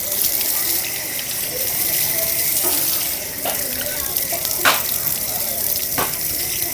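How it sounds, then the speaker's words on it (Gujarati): Hands and feet are washed under a running water tap near the gate of Mogaldham in Bhaguda, a steady close gushing stream with intermittent splashes. "હાથ પગ ધોઈ નાખીએ છીએ હવે."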